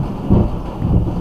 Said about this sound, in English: There's a loud thunder.